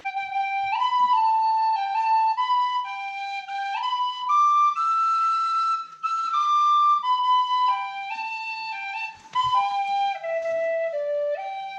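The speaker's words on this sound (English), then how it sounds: "welcome to the Isle of Skye portrait show featuring Silky Nick on the penny whistle" A penny whistle plays a bright, clear folk melody outdoors on the Isle of Skye, with sustained notes and quick runs rising and falling, close and loud, with no talking.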